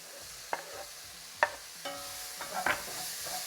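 Chopped fresh tomatoes hit a pan of cooking peppers for a ratatouille filling, giving a soft sizzle broken by a few sharp clinks and scrapes of stirring. No one speaks.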